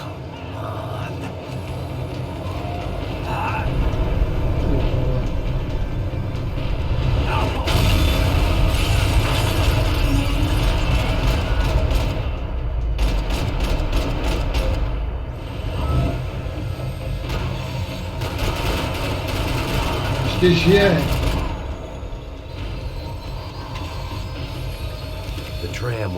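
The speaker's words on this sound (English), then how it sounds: "The tram was slowing down," A tram in the video game Max Payne 3 rumbles steadily along its rails with clanking, ratcheting mechanical noise, then slows down, while a voice speaks briefly over it.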